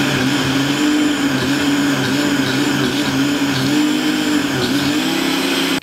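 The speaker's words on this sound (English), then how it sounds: "So, chuck a load of stuff in the blender" A kitchen blender runs at full power on a batch of fish soup ingredients for bouillabaisse, a loud, steady, continuous motor whine with an even grinding drone throughout and no talking.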